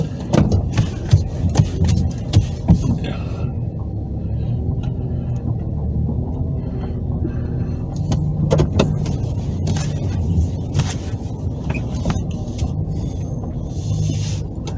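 A big pickup truck drives slowly and turns around, its engine rumbling steadily at moderate distance with a few clunks and brief sharper noises over the low drone.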